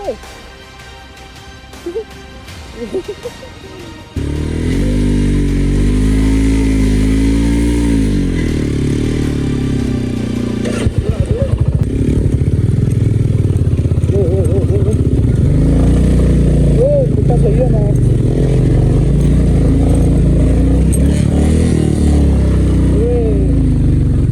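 Motorcycles ride off-road on a rough, dangerous trail, with steady loud engine drone and revving running through most of the stretch and a brief quieter start. Voices talk over the engines.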